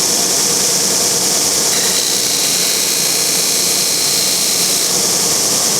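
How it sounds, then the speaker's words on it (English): Disc sander grinding the wooden sides of a handmade instrument, a loud continuous whirring roar that holds steady throughout with no pauses. "You're really supposed to sand on this side of the disc."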